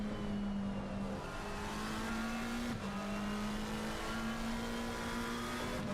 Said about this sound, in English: You can hear him come off the throttle then, just to make sure he can get the car to rotate through the corner.